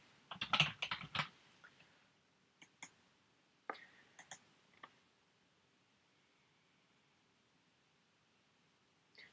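Computer keyboard typing, with a quick close burst of clustered key clicks at the start, then a few scattered taps and short runs of keystrokes before the room falls quiet.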